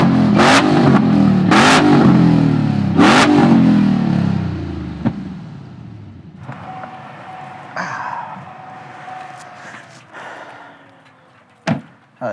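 A Kibbetech-built Chevy ZR2 truck revs hard in three loud rising bursts during burnouts, then settles into a lower idle rumble with a few sharp knocks near the end.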